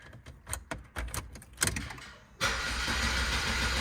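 A Saab 9-3 fitted with a new starter cranks in quick rhythmic pulses, then catches and settles into a steady, loud running engine noise nearby.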